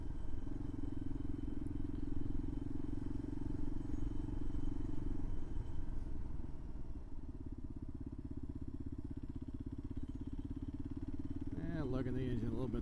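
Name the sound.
motorcycle engine lugging at low revs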